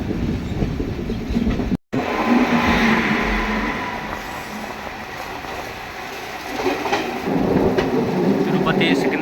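Visakhapatnam Godavari Express passing on an outer line, a loud, steady rumble and rush of wheels and carriages that briefly cuts out near the start, eases slightly midway, then swells again.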